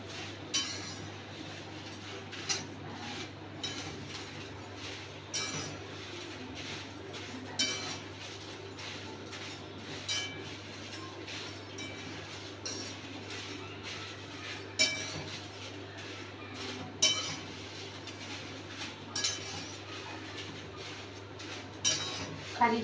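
Dried red chillies being stirred in a pan for masala powder, with scattered clinks and scrapes of a metal utensil against the pan over a low steady hum, quiet and close.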